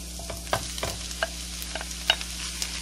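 Ground meat for tacos goes into browned onions in a pan, sharp spatula clacks and scrapes over a low sizzle, close and distinct with no voice.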